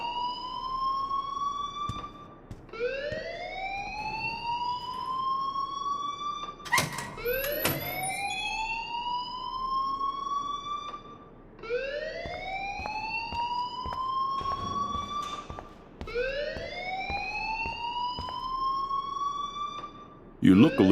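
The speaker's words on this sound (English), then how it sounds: "please turn off that alarm since that's your job" Fire alarm in the video game Life Is Strange, a looping rising siren-like wail repeating every few seconds, loud and steady across the whole stretch, with a brief burst of other noise partway through.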